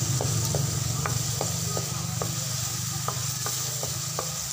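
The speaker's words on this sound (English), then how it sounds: "hintayin na lang natin na mag-brown ang ating sinute na garlic onions" Garlic and onions sauteing in a pan give a steady, close sizzle, broken by regular scrapes and taps of a utensil stirring the pan.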